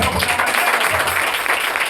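A church congregation at a Sunday service claps together in a steady, dense wash of applause that fills the whole moment without pause.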